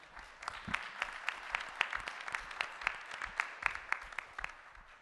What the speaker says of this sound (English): So a round of applause for Mr. Ray.